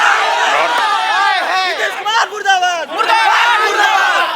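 A crowd of students protesting over delayed exam results outside Patliputra University, many voices shouting and chanting at once, loud and continuous with overlapping yells rising and falling.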